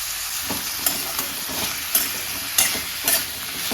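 Chopped vegetables, including broad beans and chow chow with salt, sautéing in a pan for sambar, giving a steady sizzle with a few sharp stirring scrapes spaced about a second apart; no voices.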